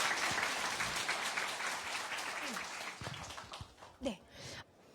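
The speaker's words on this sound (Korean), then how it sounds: "박수 한번 주세요." Audience applause on a family education television lecture, a dense crowd clapping that gradually tapers, with voices and laughter mixing in near the end.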